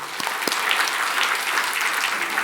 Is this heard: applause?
yes